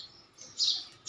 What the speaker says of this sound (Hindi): वो तो तोता है